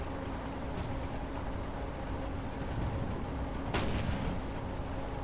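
A landship tank cannon fires in the video game Toy Soldiers: one sharp blast rings out under a steady background rumble of battlefield noise, with fainter thuds earlier.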